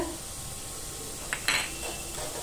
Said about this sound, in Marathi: हळद पण ना अशी तेलावरती परतून घेऊया.